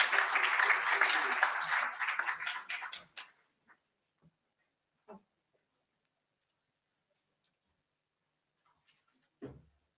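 An audience at a youth festival event claims a burst of applause that fades out over about three seconds, followed by near silence broken by a few isolated claps and small noises.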